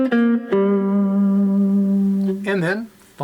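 A four-string cigar box guitar plays a sustained blues phrase with steady vibrato on one held note, ending in a short slide and pluck, close and clear with no talk.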